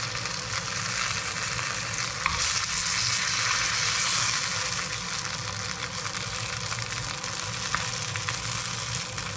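Fish fillet skin pan-frying over low heat in oil, a steady, moderately loud crackling sizzle with occasional small pops and stirring sounds, no talking.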